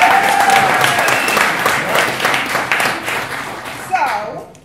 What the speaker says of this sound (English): One more round of applause for Stanley